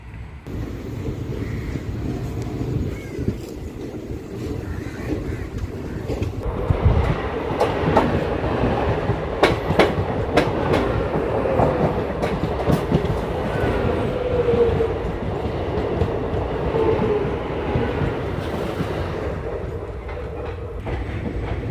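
The Circar Express rumbles along the rails after pulling out of Gudur station, a loud continuous roar with rhythmic clickety-clack that grows busier partway through, wind buffeting throughout.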